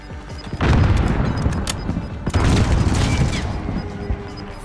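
A grenade explosion and gunfire in the video game Call of Duty Warzone: a loud booming blast and a burst of shots fill the clip, with a second heavy wave of gunfire and rumble after a brief drop.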